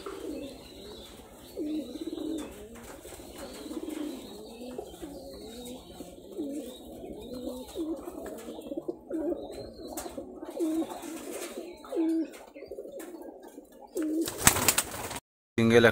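Rajshahi Giribaj highflyer pigeons coo in soft, repeated rolling phrases, close by and moderately loud, with a brief burst of handling noise near the end.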